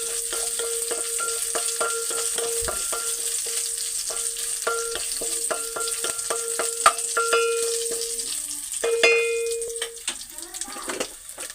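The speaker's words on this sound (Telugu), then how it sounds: "ఇది సాంబార్ తాలింపు ఇందులో ఎల్లుల్లిపాయలు ఎండుమిరపకాయలు జీలకర్ర ఆవాలు కరివేపాకు వేసాను" Sambar tempering of garlic, dried chillies, cumin, mustard seeds and curry leaves frying in hot oil, a steady close crackle and sizzle broken by sharp spoon taps against the pan, with a louder spattering burst toward the end.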